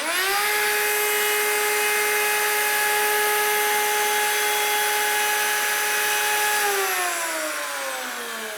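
A router cuts a wood edge on a sliding router table in one steady, loud, high-pitched whine that holds for about seven seconds, then winds down with falling pitch as the motor spins off.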